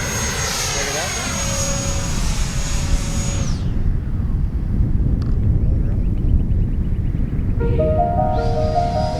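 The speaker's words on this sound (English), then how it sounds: "We're doing the shotgun mic today so you can really hear the sound of the jets." Freewing 90mm Eurofighter Typhoon RC jet flying overhead, a loud roaring electric ducted-fan whine with a falling pitch as it passes, then a broad rushing roar and a rising whine as it returns, captured at an RC airfield.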